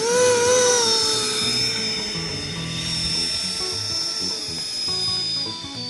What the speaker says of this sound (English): we have the FMS Avanti 70mm V1. Maiden flight.